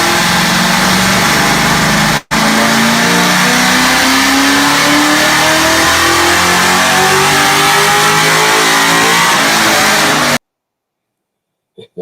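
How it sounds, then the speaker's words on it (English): A 1999 Kenny Brown CSR-R Cobra prepped for NASA AIX competition revs loudly on a dyno, its engine note sustained and climbing steadily in pitch, with one brief cut early on before it stops abruptly. "That's Roy's car on the dyno."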